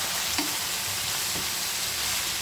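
Onion and garlic sautéing in a pan for homemade igado, a steady broadband frying sizzle with faint stirring scrapes, continuous and close, with no voices.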